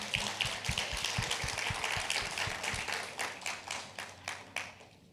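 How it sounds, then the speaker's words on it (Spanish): A small congregation at a church sermon claps, a thin scattering of hand claps that thins out and fades to a few isolated claps near the end, fairly quiet overall. "Dê um aplauso aí para vocês."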